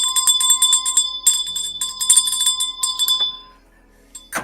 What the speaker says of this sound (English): Go down to the town square and ring the bell. Ring the tiny bell.